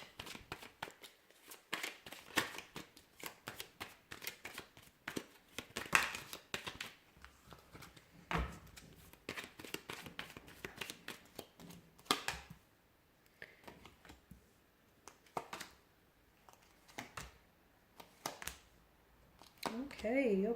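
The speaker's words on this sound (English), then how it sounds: "So we'll give the cards a shuffle here" A deck of tarot cards is shuffled over and over up close, giving a long run of quick riffling bursts and soft flicks with short pauses between them.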